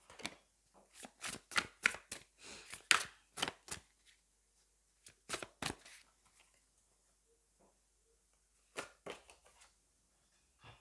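Tarot cards being shuffled and drawn from a deck during a reading, a quick burst of crisp flicks and slaps early on, then sparse soft taps and a few later flicks, close and quiet with no talk.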